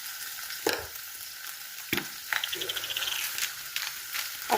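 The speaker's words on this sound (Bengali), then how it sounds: "একটু সবজিগুলো অল্প সটে করে নেবো" Vegetables sautéing in a hot pan for a pasta dish, with a continuous sizzling hiss broken by occasional scraping stirs and clatters of a utensil against the pan, close and steady.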